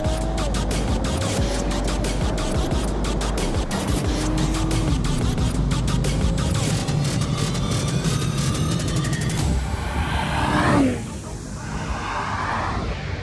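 A BMW M550d, a Mercedes-AMG E53 and an Audi A7 stage 1 drag race, their engines roaring loud and sustained as they accelerate, fading near the end while someone talks excitedly over them.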